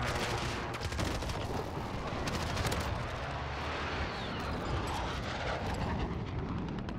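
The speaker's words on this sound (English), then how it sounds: "Gonna call this VTOL real quick too." Aircraft roar from a VTOL killstreak in the Modern Warfare video game, a steady loud engine drone over dense gunfire and explosive bursts throughout, no talking.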